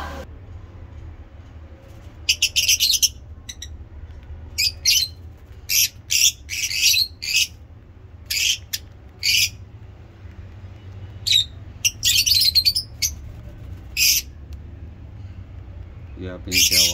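A pair of ring-necked parrots in a mini zoo after heavy rain give repeated sharp squawks and chirps in bursts over a quiet background rumble, fairly close.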